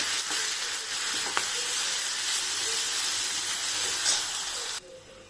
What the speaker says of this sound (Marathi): आपली मोहरी चांगली तडतडलेली आहे